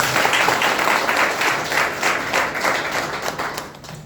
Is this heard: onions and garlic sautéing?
no